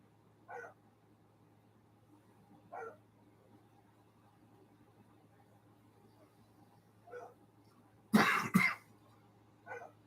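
A dog barks a few times in separate short bursts, with one louder double bark, set against a quiet room with a low steady hum.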